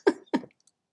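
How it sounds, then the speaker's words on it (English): Two sharp, close coughs in quick succession from someone with the flu, each a short harsh burst followed by a brief tail, with quiet between them. "Sorry, the cough's coming back also."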